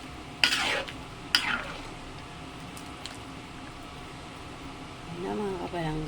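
Dinuguan, a Filipino pork blood stew, thickening in a pot as a utensil scrapes and clinks against it, with a couple of sharp knocks early on and faint simmering between strokes; a voice speaks briefly near the end.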